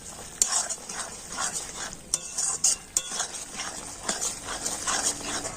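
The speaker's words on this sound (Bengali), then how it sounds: "এখন আমি সবকিছু কিন্তু কন্টিনিউ ভাবে নাড়াচাড়া করে নেব।" Besan laddu mixture being stirred continuously in a pan, a soft scraping and gentle sizzle with repeated utensil scrapes and clinks, fairly quiet and close.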